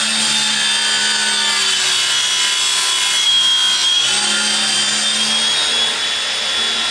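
A power saw grinds continuously through wood, its motor straining and bogging slightly as the blade works through a knot, with a dense, scraping cutting noise close by and no talk.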